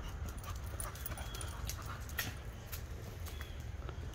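A dog whimpers and pants close by, giving soft, high whines and rapid breathy puffs over a low steady background rumble, with no talking.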